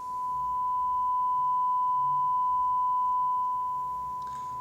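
A homemade amplifier reproduces a distorted sine-wave test tone, heard as a steady, loud, continuous pitched hum holding unbroken for several seconds, with faint low rumble beneath and a brief noisy flutter near the end.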